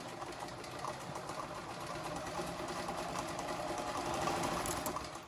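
A sewing machine stitches a fiber art piece on a shortened stitch length, running in a steady, continuous mechanical whir that stays close and fairly even throughout, with no talking.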